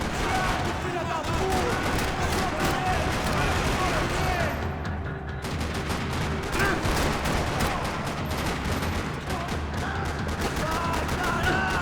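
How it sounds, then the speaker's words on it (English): Dense, continuous gunfire rattles throughout a parking lot firefight in Max Payne 3, rapid overlapping shots with a brief lull partway, loud and close. "Another parking lot rattling with gunfire."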